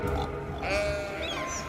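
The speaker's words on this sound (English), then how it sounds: "all you hear is cows mooing and sheep baaing" Sheep bleating in Cities: Skylines beside a pasture with cows, one short wavering baa heard close over a low rumbling game background.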